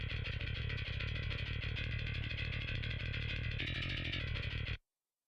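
Bass guitar track after extreme EQ, cut in the lows and mids and heavily boosted at the top, giving a gritty, buzzing, dense tone that plays steadily and then stops abruptly.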